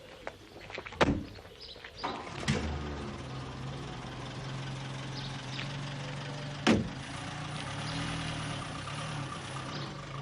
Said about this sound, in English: Taxi's waiting there.